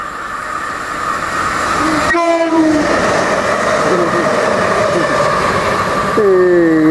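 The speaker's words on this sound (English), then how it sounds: "I made the train honk." A Southern Class 377 electric train speeds through Hassocks station without stopping, a loud rushing roar of wheels and motors with two sustained horn blasts, one early and one at the end, with voices faintly under the noise.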